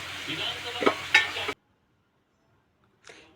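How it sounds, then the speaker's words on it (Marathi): Onion vegetable with ground chilli sautéing in a pan: a short burst of sizzling with a couple of stirring scrapes, then a sudden cut to silence and a brief faint hiss at the end. "मिरची वाटून मिरची घालून झाल्यावरती याला चांगले आपण परतून घेणार आहोत"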